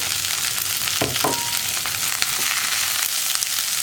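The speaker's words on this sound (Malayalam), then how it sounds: "ചീര ചേർത്ത് നന്നായിട്ടൊന്ന് വഴറ്റിയെടുക്കുക" Chopped spinach sautéing in a pan, a continuous close sizzle with a few stirring scrapes and clacks around the middle, steady and fairly loud with no talk.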